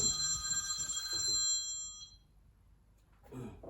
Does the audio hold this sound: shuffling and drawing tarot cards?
no